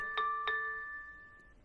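A Kittyhok 2K wireless security camera gives two quick electronic chimes close together, their tones lingering and fading, followed by a faint tick.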